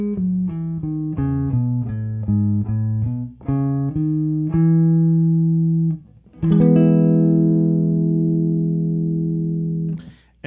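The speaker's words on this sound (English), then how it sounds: "I'm gonna go to that 5th degree, that B, and descend." On guitar, a major scale descends from its fifth degree, B, one note at a time at an even pace, then settles into longer sustained notes, close and clean, with no talking.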